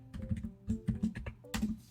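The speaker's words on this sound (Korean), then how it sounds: "색깔 입히는 거는 Alt 딜리트나 Ctrl 딜리트 그냥 눌러버리면 됩니다" Keys pressed on a computer keyboard during web design work in a graphics program, a quick uneven run of soft clicks and taps, close and fairly quiet with no talking.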